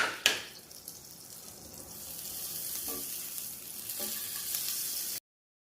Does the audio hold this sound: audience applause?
no